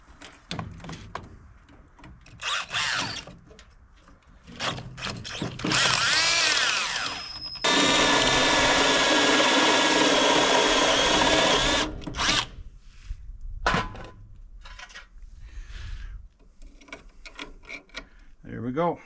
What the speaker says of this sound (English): let me grab the step drill, I guess. And I'll drill out that hole